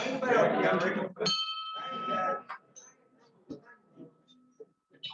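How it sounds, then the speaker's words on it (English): A single bright bell strike opens a Rotary club meeting, ringing out with a lingering tone after someone speaks, followed by faint murmuring and small clinks in a room. "You gotta ring the bell."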